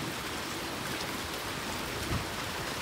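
Steady rain falls in a dense, even hiss with soft patters, close and unbroken throughout.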